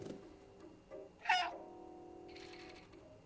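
A cat in the video game Stray gives a single clear meow over a quiet ambient game soundtrack, mid-level and brief, with soft background tones before and after.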